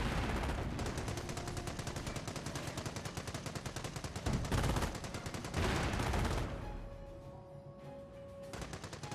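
Rapid bursts of machine-gun and rifle fire from a Company of Heroes match, US forces against Panzer Elite, rattling continuously and loud, with a short lull before another volley and a faint tonal hum near the end.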